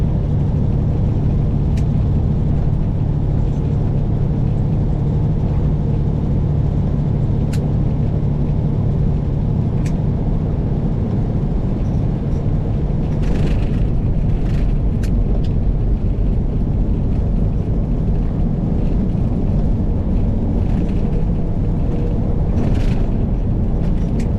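Steady low road rumble fills the cabin of a moving car, continuous and fairly loud for the whole stretch, with faint occasional ticks and rustles over it and no talking.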